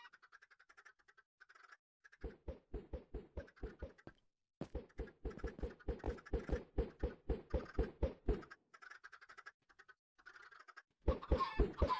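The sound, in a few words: chickens clucking in Minecraft video game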